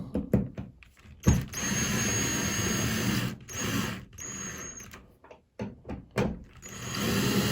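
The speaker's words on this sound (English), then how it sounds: "we can just kind of snug them up real quick with the drill" A mechanical whirring buzz runs in several bursts with short pauses between, a power drill snugging up towel rack screws in quick spurts, fairly close.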